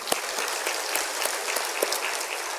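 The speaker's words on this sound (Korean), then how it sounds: "감사의 박수" A church congregation at a Korean Full Gospel service gives a round of thankful applause, a continuous roomful of clapping hands with a few sharper claps standing out, moderately loud and even, with no speech.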